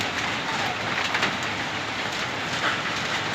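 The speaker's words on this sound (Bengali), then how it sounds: "আকাশ থেকে শিল পড়তেছে, এই যে শিলাবৃষ্টি।" Hail pours down from the sky in a steady, dense hiss of pelting ice on surfaces, constant and enveloping without any breaks.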